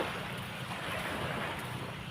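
Sea waves at high tide wash continuously against the shore, mixed with wind rushing across the microphone. The surf sounds broad and fairly close, with no voices.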